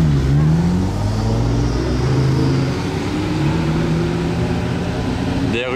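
A black factory-original Ferrari F50 supercar driving past on the street, its engine a loud, steady mid-pitched drone with a revving swell near the start, close by, ending in an abrupt burst.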